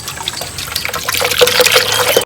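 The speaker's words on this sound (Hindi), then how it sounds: "सबसे पहले तो इसमें डाल लेना जी आधा गिलास पानी।" Half a glass of water is poured into an old grinder jar, producing a close, splashy trickle that grows fuller and louder before stopping abruptly.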